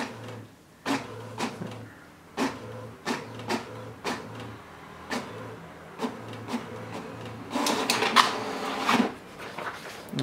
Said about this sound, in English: the printer is printing a report that includes lots of details